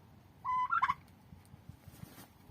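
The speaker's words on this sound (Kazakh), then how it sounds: "Мінекей күрке тауықтар осы қорада тұр." A turkey in a farm coop gives a short, loud gobbling burst near the microphone, then quieter shuffling and faint background noise follow.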